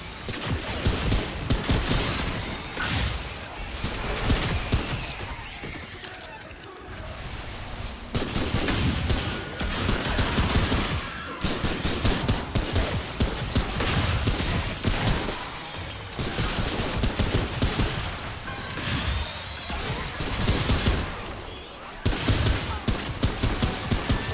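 Dense, continuous gunfire from the Remnant 2 video game, rapid bursts and shots packed together with clanks and impacts, loud and sustained for the whole stretch with only brief dips.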